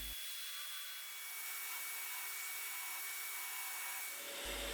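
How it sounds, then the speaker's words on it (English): A drill with a Forstner bit bores holes in MDF, giving a steady whirring, grinding drone that holds evenly for about four seconds before shifting at the end, close and moderately loud with no speech. "It took me ages to drill these holes."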